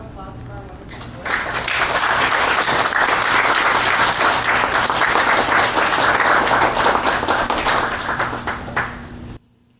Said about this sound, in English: Can we have a round of applause for our wonderful board?